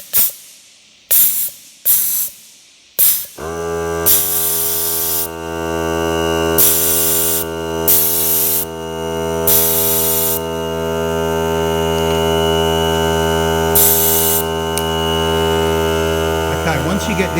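A Ryobi 18V cordless 3.8-litre air compressor clicks a few times, then starts and runs with a loud, steady motor drone and hiss, broken by short bursts of spraying air.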